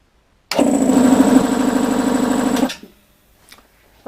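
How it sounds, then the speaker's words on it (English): An air compressor, set up to feed a spray gun, starts and runs steadily at a loud, even mechanical drone for about two seconds, then cuts off abruptly and leaves near silence. "let's turn the compressor on and run it up to full pressure."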